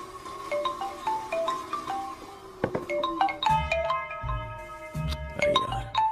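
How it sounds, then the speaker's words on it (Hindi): A phone ringtone plays in a tense Hindi-dubbed South Indian horror film scene, its repeating electronic melody of bright tonal notes sounding at moderate level against a low background rumble. "अरे यार ये अभी क्यों फोन लगा रहा है?"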